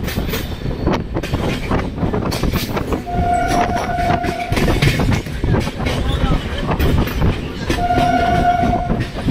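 A passenger train rolls from Tollygunge toward New Alipore, heard from on board: loud continuous rumble and rattling wheel clatter, with two long horn blasts sounding through, and faint voices mixed in.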